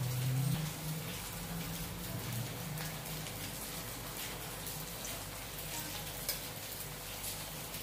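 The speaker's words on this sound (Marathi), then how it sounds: "तेल तापलेलं आहे. आपण ते तळून घेऊया." Rice vadas deep-fry in hot oil, giving a steady, dense sizzle and crackle that runs without a break, close by and moderately loud, with a brief low rumble at the start.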